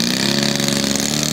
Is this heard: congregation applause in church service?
no